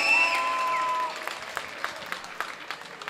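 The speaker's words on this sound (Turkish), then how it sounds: "Kardeşlerime alkış isteyeceğim." Concert crowd applause at a live Turkish folk performance in Mannheim, starting as a faint wash under a fading sustained tone, then thinning into scattered, distant individual claps.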